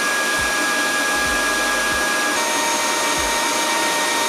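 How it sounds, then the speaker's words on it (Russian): A JONR XQ02E cordless wet vacuum cleaner runs with a steady, loud, close whooshing whir, broken only by a few soft low bumps. "Уровень шума Joner XQ02i такой же, как у конкурентов, в пределах 76-78 дБ."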